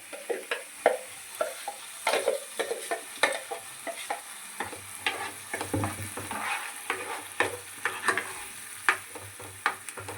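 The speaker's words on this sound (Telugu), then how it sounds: "ఇది కొద్దిగా పచ్చివాసన పోయేదాకా వేయించుకుందాం" Ground masala paste for an ivy gourd (dondakaya) curry fries in a pan with a steady sizzle, punctuated by frequent sharp scrapes and clacks of stirring, close and fairly loud with no talking.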